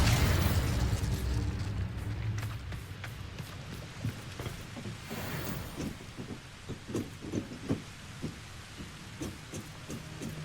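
Incendio fire spell bursts in Hogwarts Legacy, a whooshing fiery roar at the start that fades into crackling flames and a run of sharp popping impacts, fairly quiet overall.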